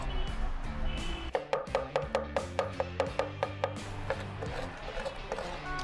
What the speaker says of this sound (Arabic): نقطع بس الخضار ده عشان هنحتاجه كمان شويه